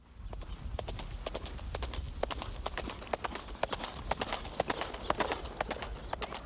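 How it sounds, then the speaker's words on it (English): Horses ridden by Pony Express reenactment riders in Northern California clip-clop steadily along, the hoofbeats fairly close and rhythmic over a soft outdoor rumble, with faint bird calls in the background. "you can still see the Pony Express riders on their trusty horses, still delivering the mail"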